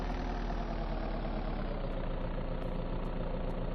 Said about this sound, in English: I'm just going to leave the engine on.